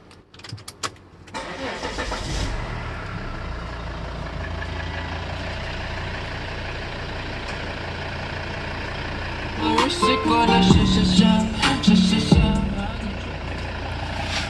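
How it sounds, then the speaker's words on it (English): A 2012 Volvo XC90 engine cranks and catches after a few clicks, then settles into a steady close idle, with a brief burst of revving and clatter near the end. "Let me get to the driver's side and turn on the engine."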